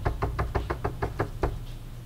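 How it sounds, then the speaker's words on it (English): Eight evenly spaced knocks land on a door in the horror video game The Quarry. They come close and distinct, then stop, with nothing else heard. "We already knocked."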